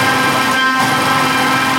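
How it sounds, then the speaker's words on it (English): A Makita drill fitted with four guitar picks spins on high speed against electric guitar strings, producing a continuous buzzy, rapid tremolo drone that is loud and close, with no talk. "The Makita drill with 4 guitar picks."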